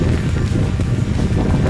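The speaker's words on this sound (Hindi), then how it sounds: "बहुत तेज हवा चल रही है और छाता पलट रहा है" Strong wind blows during rain, a steady loud roaring rush buffeting the microphone, dense and continuous with no voices.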